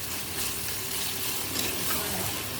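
Small beef pieces fry in a pan while being stirred for a Bengali beef and banana blossom curry, giving a steady close sizzle with faint scraping, no voices.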